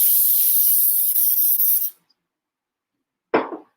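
Cooking spray hisses out of a can onto a pan in one sharp burst of almost two seconds. A pause follows, then a shorter scraping sound.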